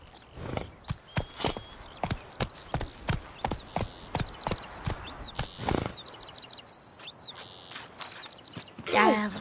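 Roach the horse moves in The Witcher 3, hooves striking in a regular loud clip-clop rhythm that stops partway, followed by bird chirps and a rustle at the end.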